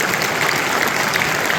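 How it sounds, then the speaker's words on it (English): Dense audience applause fills a Chicago evening event with UFC lightweight champion Khabib Nurmagomedov, a steady, loud wash of many hands clapping with no talk over it. "Give a round of applause, guys."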